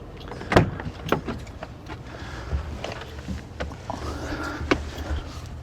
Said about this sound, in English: These are actually the controls for the automatic side windows.